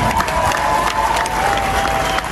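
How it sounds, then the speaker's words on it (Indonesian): A crowd claps in a steady, dense wash of applause, with a faint sustained tone running underneath. "Tepuk tangan untuk kita semua."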